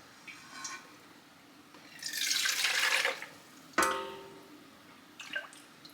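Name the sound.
chicken broth being poured into canning jars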